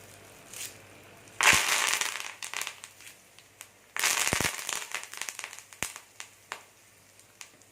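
Asafoetida and curry leaves hit hot oil for tempering and crackle loudly up close in two bursts of dense sizzling and popping, with sharp snaps in between.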